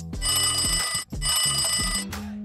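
An old-style telephone bell rings loudly in two long bursts with a brief gap between them, ringing alone close by.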